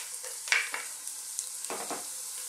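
Garlic sautés in cooking oil in a cooking pot, a soft steady sizzle with a few crackling pops and stirring scrapes, close and alone.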